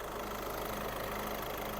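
A 2011 Volkswagen Golf VI with a 1.6 TDI diesel engine and automatic gearbox idles with a steady, even mechanical hum and a light diesel clatter, alone and without talk.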